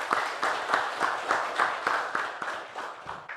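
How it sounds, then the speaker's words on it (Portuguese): A church congregation claps together in a steady, even rhythm, roughly three claps per second, sounding moderately near and filling the room. "Vamos aplaudir a Jesus então, né?"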